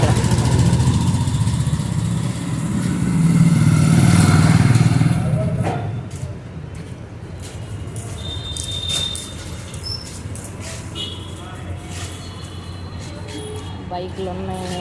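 Motorcycle engines rumble and idle on a busy neighbourhood street with bikes and buses, loud and close at first, then fading into a steadier background traffic drone.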